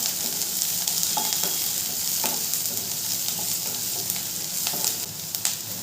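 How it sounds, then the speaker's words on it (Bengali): Chopped onion sizzles in hot oil in a pan while being stirred, a steady close frying hiss broken by repeated scraping clicks of the spoon. "পেঁয়াজটা একটু হালকা নেড়ে চেড়ে ভেজে নেব।"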